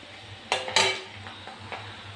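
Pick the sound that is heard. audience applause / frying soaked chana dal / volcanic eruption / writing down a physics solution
frying soaked chana dal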